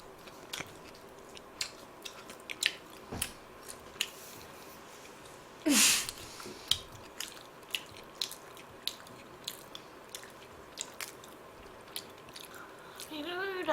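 Shrimp burger chewed close to the microphone, with soft, wet bites and a few sharp crunches spread over the stretch and one brief loud burst near the middle.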